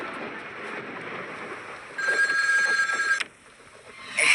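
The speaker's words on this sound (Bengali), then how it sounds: "যাই, বল্টুকে ফোন করে ডাকি।" A telephone rings for a call, a bright electronic trill that starts partway in, sounds for about a second, stops, and begins again at the very end, faint room tone around it and no talk.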